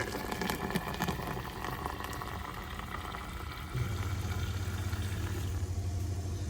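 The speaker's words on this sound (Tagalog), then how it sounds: "So ito na ang ating water dispenser." Sparkling water pours from a water dispenser, a steady fizzing, bubbling rush that shifts to a lower, continuous gurgling flow partway through, heard close with no talking.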